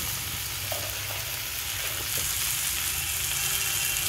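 Drumstick curry (mulakaya) simmers in a pan with a dense, steady sizzle and bubbling crackle, close and constant throughout, with faint stirring scrapes.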